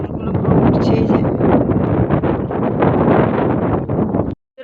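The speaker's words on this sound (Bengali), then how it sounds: "কিন্তু বাতাসটা দিচ্ছে, জোরে দিচ্ছে" Strong wind buffets the microphone outdoors ahead of a storm, a loud, continuous roaring rumble with gusty surges before it cuts off abruptly near the end.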